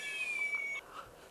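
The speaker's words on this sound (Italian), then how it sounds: "Ha dei gatti qui?" A cat meows indoors, a single faint, thin, drawn-out call lasting under a second and then fading into quiet room noise.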